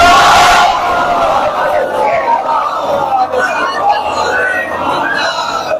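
A large congregation at an 8th Muharram Majlis-e-Aza in the Purana Paltan imambargah recites salawat together, a dense, loud wash of many voices chanting in unison that swells at the start and continues steadily throughout.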